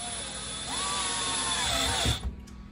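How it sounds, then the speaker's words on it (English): A power drill with a 1/4 inch bit boring through PVC, a whining motor spinning up and holding steady for over a second before cutting off with a clunk, heard alone. "So we're just going to use a 1/4 inch drill bit right down the center."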